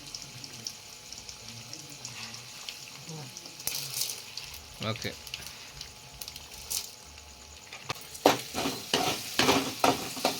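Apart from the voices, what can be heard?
tempering seeds frying and being stirred in oil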